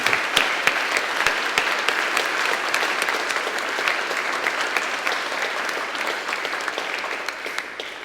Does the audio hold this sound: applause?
yes